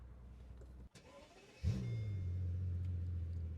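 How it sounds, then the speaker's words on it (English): Mercedes SL65 AMG Black Series starting up close by: a short cranking burst gives way to a loud bark, which settles into a deep, steady rumbling idle. "Please listen to the startup sound."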